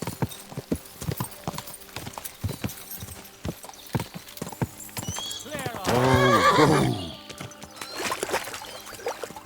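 Rhythmic clip-clop of horse hooves throughout, with a loud whinny rising in the middle, from the video game Kingdom Come: Deliverance 2; sounds like a game soundtrack.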